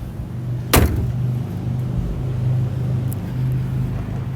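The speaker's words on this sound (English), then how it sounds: "I'm going to go ahead and shut this hood" A 2022 Mustang Shelby GT500 Track Pack hood is slammed shut in one loud, close thud, with a steady low idle rumble continuing underneath before and after.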